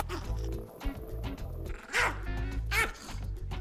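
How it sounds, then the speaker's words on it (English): Mushu, a small chihuahua, gives a few short yips and whimpering barks close by, with two sharper high-pitched bursts standing out over a low background hum. "Yeah, that's my friendly little chihuahua"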